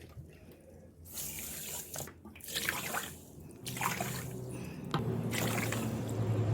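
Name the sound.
water poured into a pot for rasgulla syrup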